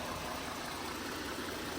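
A Jeep Grand Cherokee engine idles smoothly after maintenance and coolant cleanup, giving off a steady, quiet, hissing hum with no change in pace.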